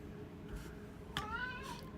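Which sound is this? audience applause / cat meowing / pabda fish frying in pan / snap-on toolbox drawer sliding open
cat meowing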